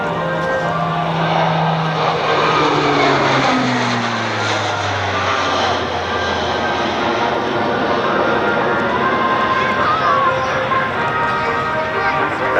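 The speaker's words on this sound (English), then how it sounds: "a high-speed pass right down over the runway here" A military propeller plane makes a high-speed pass low over the runway at an air show at Barnes Air National Guard Base, its loud engine roar sweeping past with a falling pitch as it goes by.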